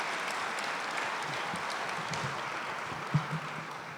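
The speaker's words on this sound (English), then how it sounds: "give the councilman a round of applause" An audience at a ribbon-cutting event for the Center for Innovation in San Pedro applauds a city councilman, a steady wash of clapping that lasts throughout without talk.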